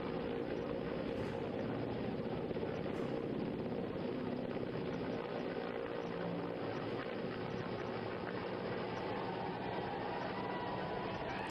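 An army rescue helicopter hovers over the Tawi River near an under-construction dam, its rotor and engine making a steady, continuous drone that sounds somewhat distant and stays even throughout.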